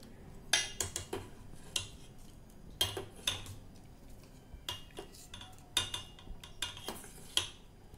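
A spoon stirs milk with added cornflour in a pot for an eggless caramel bread pudding, making quiet, repeated clinks and taps against the pot in an uneven rhythm with short pauses.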